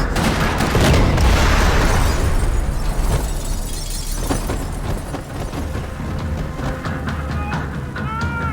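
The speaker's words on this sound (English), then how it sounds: "Another parking lot rattling with gunfire." Loud booming blasts and a rattle of gunfire in the video game Max Payne 3, in a parking lot, a heavy explosive roar at first, then sharper cracks and debris scattering as it fades.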